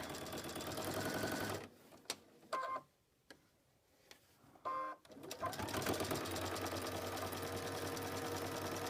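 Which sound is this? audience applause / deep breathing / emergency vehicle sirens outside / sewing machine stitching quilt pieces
sewing machine stitching quilt pieces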